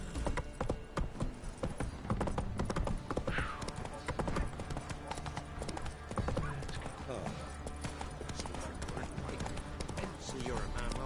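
Roach, Geralt's horse in The Witcher 3: Wild Hunt, gallops with steady, fast hoofbeats that run the whole way, mixed with in-game sounds and someone talking over the top.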